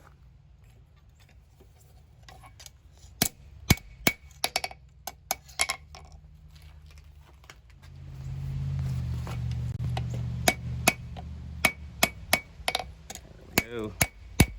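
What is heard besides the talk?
hammer forging a small neck knife on an anvil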